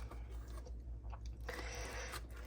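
Close, soft crunching and chewing of a bite of zucchini Bisquick casserole with a brown, crunchy crust, a few moist bites over a low background hum.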